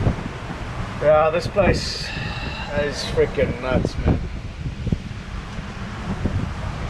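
Strong wind gusts at sea while sailing solo in about 30 knots, a broad, steady roar of rushing air buffeting the microphone throughout, with someone talking excitedly over it.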